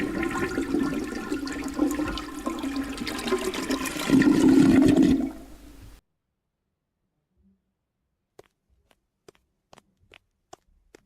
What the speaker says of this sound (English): let's flush this tasty hamburger.